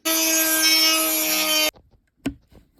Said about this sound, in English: With a Dremel and sanding drum.